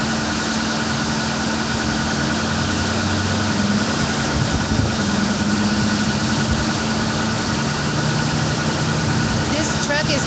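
A truck engine idles steadily nearby outdoors, a continuous loud low rumble and vibration that persists throughout, with occasional voices talking faintly under it.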